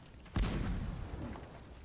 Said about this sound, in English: We seem to be just out of range of this cannon.